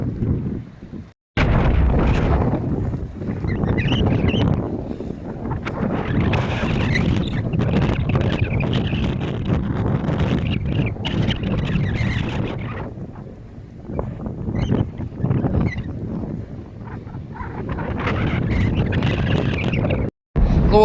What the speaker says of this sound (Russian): Ветер, конечно, порывистый такой, то затишье нормально, а то прям сильный встречный ветер в лицо сейчас